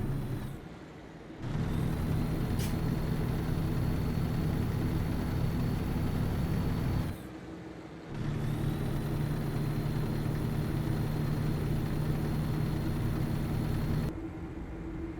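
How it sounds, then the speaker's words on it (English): A Kenworth truck with a Cummins engine in American Truck Simulator, a loud steady droning engine roar that cuts out briefly twice, with air-brake hiss between pulls. "we are going to get our Kenworth mic'd up moment of the day listening to this glorious Cummins scream"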